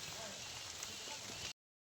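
Rain falls as a steady, soft hiss of drops for about a second and a half before cutting off abruptly.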